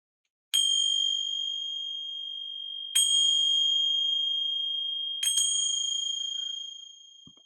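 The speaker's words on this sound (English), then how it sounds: "Gonna ring some bells here." A small bell is struck three times, each a bright, clear ding that rings on and slowly fades before the next, in a quiet room with no talking.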